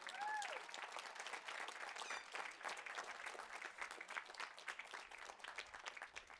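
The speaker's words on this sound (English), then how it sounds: "a round of applause." A commencement crowd applauds retiring faculty members, steady distant clapping filling the hall for several seconds, with a brief tonal whistle near the start.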